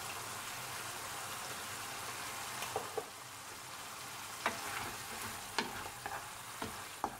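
Zucchini pasta, seasoned with salt and black pepper, is stir-fried in a pan. A soft, continuous sizzle runs throughout, and scattered light clinks of the utensil against the pan grow more frequent toward the end.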